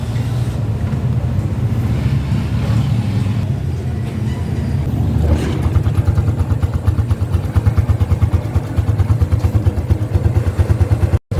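A Honda XRM 125 Fi motorcycle engine is kick-started, catching after a few seconds of cranking and settling into a steady, loud, close idle with a rapid even putter.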